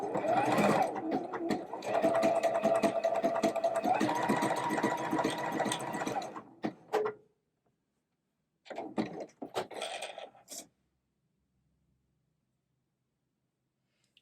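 A sewing machine runs an overcast stitch in two bursts of rapid, even mechanical chatter, the first about seven seconds long and the second shorter after a pause, ending in silence.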